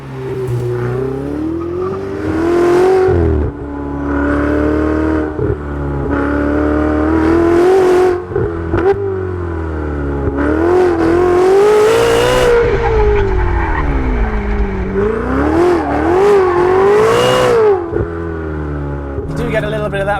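A 2015 Ferrari 488 GTB's V8 engine revs loudly and high, climbing and falling in pitch repeatedly, with sharp gear-change dips and a turbo boost note overlaid, sustained and close throughout.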